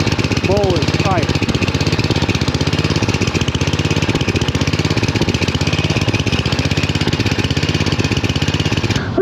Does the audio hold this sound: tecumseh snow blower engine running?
yes